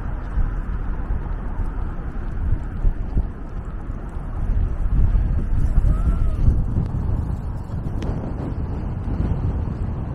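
Steady low rumbling wind buffets the microphone for the whole stretch outdoors in downtown Toronto's South Core in November, swelling slightly midway, with faint background noise and no clear talk.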